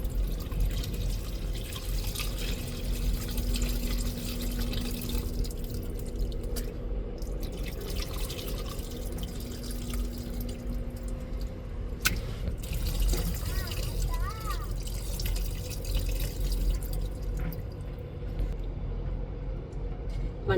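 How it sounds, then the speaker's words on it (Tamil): Tamarind water pours into a curry pot over a steady background hiss, giving a soft continuous trickle with occasional drips. "வச்சிருக்கிற புளி தண்ணி சேர்த்துக்கிடுவோம்."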